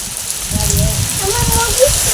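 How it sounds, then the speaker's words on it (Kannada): Rain falls steadily with a soft hiss, while muffled voices talk underneath. "ಬಂದಿದೆ ನೋಡಿ ಮಳೆ ನೋಡಿ"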